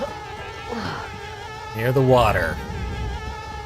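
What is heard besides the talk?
buzzing swarm of bees in video game Conker's Bad Fur Day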